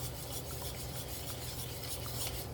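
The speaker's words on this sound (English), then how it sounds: "you basically want to take a whisk and start whisking this all together" A whisk stirs salsa ingredients together for home canning, giving a steady, close scraping swirl that runs evenly without pause.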